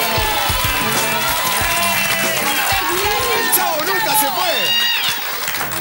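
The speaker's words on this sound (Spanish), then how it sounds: "¡Vuelve el Chavo! ¡Un aplauso!" Studio audience applauding and cheering on an Argentine TV talk show, a dense crowd roar of clapping mixed with whoops and voices, steady and loud throughout.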